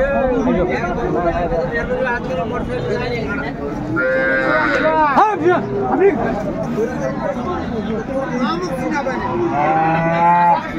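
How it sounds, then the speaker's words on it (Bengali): Cows and calves at a rural cattle market in Dinajpur, with several loud, drawn-out moos rising near and far over a steady crowd chatter and bargaining voices. "গাভী বাছুর আমরা দেখছিলাম।"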